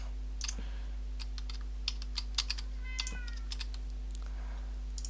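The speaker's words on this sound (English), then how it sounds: "Please excuse the noise in the background, that is my cat, Oscar" A cat meows a few times in the background, mixed with steady keyboard typing and clicks over a constant low electrical hum.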